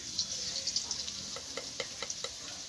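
Eggplant and potato frying in a pan with salt, a steady hiss with a scatter of small ticking pops and light stirring scrapes, close and moderately quiet.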